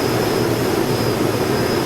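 Steady, loud whine of a simulated Cirrus SF-50 Vision personal jet engine in the X-Plane flight simulator, a constant broadband roar with a thin high tone running unbroken throughout.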